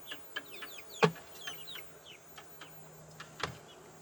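Several chickens cluck and chirp in short, scattered calls while pecking at greens and peas laid on a duck ramp by an outdoor pool, with one louder nearby squawk and a steady faint hum underneath.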